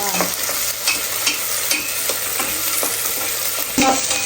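Shallots and a little onion sautéing in a pan, a continuous close sizzle broken by regular scraping and stirring strokes of a spoon against the pan.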